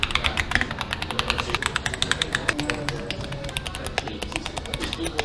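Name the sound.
typing test on custom mechanical keyboards in keyboard shop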